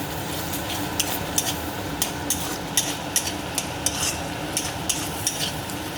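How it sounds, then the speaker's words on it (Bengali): Whisked sour yogurt is stirred into a spice masala frying in oil for a paneer poppy-seed curry, a steady sizzle under a regular scrape-and-clink of the spoon against the pan, close and fairly loud. "এবার ফ্যাটানো টক দইটা আমি দিয়ে দেবো একটু নাড়াচাড়া করে দেবো"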